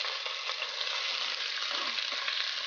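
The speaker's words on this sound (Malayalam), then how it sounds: "അത് ഈ എണ്ണയിലേക്ക് ഇട്ട് വഴറ്റി കൊടുക്കാം." Ground onion paste sautéing in hot coconut oil for a Kerala-style pork roast, a steady close, dense sizzle with faint stirring ticks and no talk.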